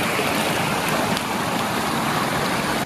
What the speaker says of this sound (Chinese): 哇，流好大的水啊！